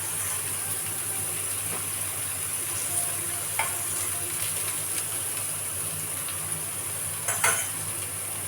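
Eggplant slices fry in hot oil with a steady, even sizzle, with occasional soft clicks and spatters over a constant low hum.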